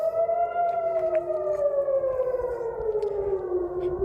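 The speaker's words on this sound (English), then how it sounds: "The sound of sirens." An air raid siren sounds on its own, its steady wail slowly falling in pitch against a faint rumbling background.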